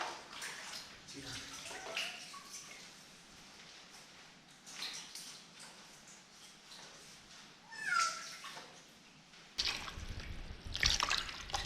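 A cat meows faintly several times while being bathed, with splashing and running water from a tap becoming louder toward the end, and a few quiet voices in the background.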